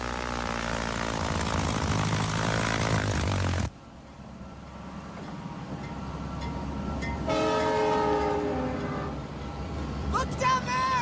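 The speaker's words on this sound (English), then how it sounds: "I see his train!" A train rumbles past with a long blaring horn, loud at first, then cutting off abruptly before the rumble and horn tones return more distantly.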